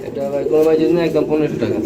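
Pigeons coo in low, warbling tones, close and fairly loud, with a voice talking over them throughout.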